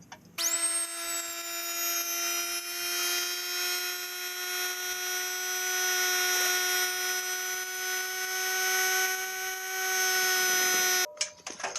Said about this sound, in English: just clean it up with a grinder, and you'll be good to go